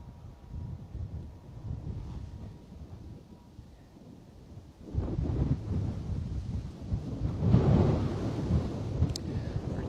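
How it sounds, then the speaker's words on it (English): Wind blowing at Bristol Airport, a low rumbling buffet on the microphone that swells noticeably halfway through and stays gusty and loud. "Return of the wind, as you can hear."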